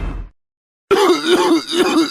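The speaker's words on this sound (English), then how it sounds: "Sounds like you got a nasty cough." A man coughing and hacking harshly in a radio commercial in the Grand Theft Auto: San Andreas video game, a short burst, a pause of silence, then a loud, rough run of throaty coughs and groans close to the mic.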